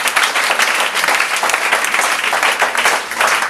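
Sustained applause from a church congregation fills the space, dense overlapping clapping holding steady and loud throughout with no break.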